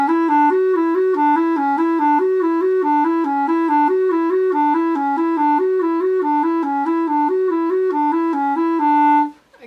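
A clarinet plays Klose practical daily exercise 265, a rapid, even back-and-forth figure between neighbouring notes repeated in a steady pulse, loud and close, stopping abruptly near the end.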